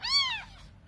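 A young rescued kitten gives one clear, close, loud meow while begging for food, followed by a brief faint trailing sound, with no talking.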